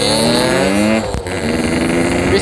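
Motorcycle accelerating on a relaxed night ride, loud close engine roar rising in pitch through the gears with a brief dip at a shift, no voices.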